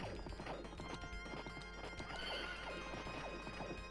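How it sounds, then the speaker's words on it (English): A horse rears and neighs in the 1991 arcade game Knights of the Round: repeated whinnies fall in pitch over busy clip-clop hooves, crashing hits and game music, loud and dense throughout. "The horse randomly rearing at times? That is irksome."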